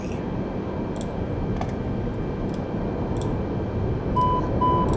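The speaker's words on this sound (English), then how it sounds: "That beeping sound just is letting me know that the plane doors have opened to connect the jetway" Two short electronic beeps from a cockpit door alert sound near the end over a steady low engine hum, with faint clicks scattered earlier, in Microsoft Flight Simulator 2020 aboard an Airbus A320neo at the gate.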